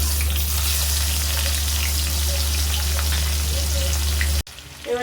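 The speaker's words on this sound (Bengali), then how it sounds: "এটা একটু ভাজা হলে আমি এটা দিয়ে দেবো পেঁয়াজ কুচিটা" Onion frying in hot oil in a pan, a steady close sizzle and crackle that runs continuously, cutting off abruptly near the end.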